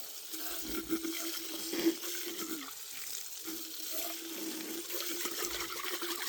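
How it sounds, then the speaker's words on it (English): A hose-end sprayer with its can removed runs water to rinse out a sprayer container, producing a steady, moderate rush and splash that continues throughout. "we'll turn it on without the can on it, and then we can use it to rinse out our sprayer container"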